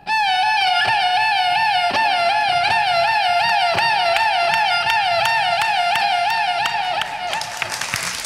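On a comedy stage, a violin and flute imitate a police car siren with a quick, continuous warbling wail that wavers rapidly up and down, loud and close, before applause breaks in near the end.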